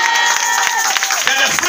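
A church congregation at a worship service cheers and claps, a busy crowd roar of voices and hands, loud and close, with a voice over it.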